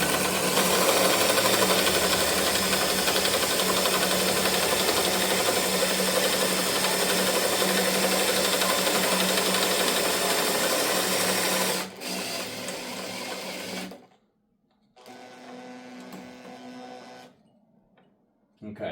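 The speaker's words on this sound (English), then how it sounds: "we got a fresh battery in the drill" A cordless drill on a fresh battery runs loudly and steadily for about twelve seconds while tuning an archery bow, then cuts out, followed by quieter shorter bursts and pauses.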